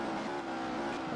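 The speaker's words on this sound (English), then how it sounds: "Listen to this Audi engine working away." An Audi touring car's engine drones steadily from onboard during a lap of Oulton Park in the 1996 British Touring Car Championship, a faint, even mechanical hum with no talk over it.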